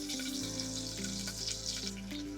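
Small onions fry with spices in hot oil, a steady close sizzle and crackle running throughout with no talk over it.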